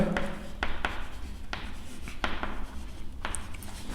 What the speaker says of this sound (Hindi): तो मैं लिख देता हूं एक बार